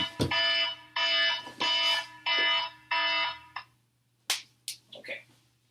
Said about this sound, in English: one moment while I turn this alarm off